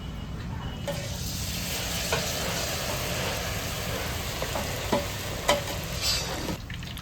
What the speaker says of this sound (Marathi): इकडे आता सोयाबीन चिल्लीसाठी सोयाबीन फ्राय करते मम्मी.